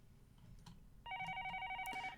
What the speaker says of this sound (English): And then after the phone had rang around 10 times and I had almost given up, the call went through.